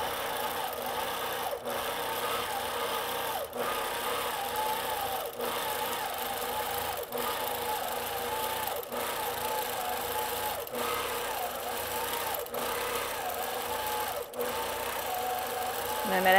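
A long arm quilting sewing machine stitching feather patterns runs steadily throughout, its needle making a fast, even whirring hum broken by brief pauses every couple of seconds as the stitching shifts direction.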